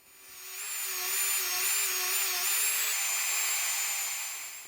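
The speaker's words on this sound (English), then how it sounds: "it's a Dremel machine with some polishing wheels. Sorry, very fine abrasive wheels" A Dremel rotary tool spinning very fine abrasive polishing wheels against a rusty antique razor stropper, a steady high-pitched whine with a faint wavering tone, heard alone and close throughout.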